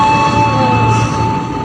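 A train running on railway tracks near Palmerah, a loud steady rumbling roar close by with a sustained tonal whine over the rolling noise.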